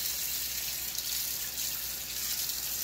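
A kitchen tap runs steadily into a sink while something is rinsed off, a constant close hiss of flowing water with no talking.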